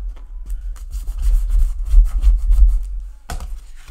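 A wooden hexagonal box being rubbed down by hand, with steady, close abrasive rubbing strokes that build in strength through the middle, pause briefly, then resume, with no talking.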